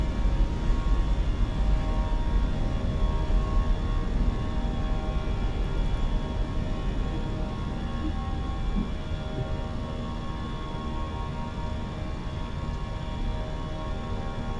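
A steady, droning roar from the twin engines of an Airbus A320 climbing after takeoff in a flight simulator, loud and even throughout, easing slightly toward the end, with no talk.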